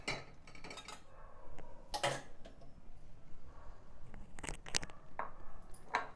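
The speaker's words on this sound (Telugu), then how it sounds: "ఇప్పుడు మనం వేరే బౌల్లోకి మార్చుకొని చల్లార్చుకుందాం" Roasted seeds for a flax seed, sesame and peanut spice powder are tipped and scraped from a pan into a bowl, with faint metallic clinks, scrapes and scattered rattling taps at irregular moments.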